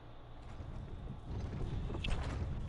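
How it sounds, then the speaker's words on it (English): Horse hooves clip-clopping in a steady walking rhythm in the Western Skyrim area of Elder Scrolls Online, close and clear over a low ambient bed. "See, like that's a nice freaking horse."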